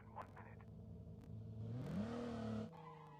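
Bumblebee-style car in Call of Duty Mobile driving, a steady engine drone that rises in pitch as it accelerates with a brief skidding, tyre-squeal texture, ending abruptly; no talking.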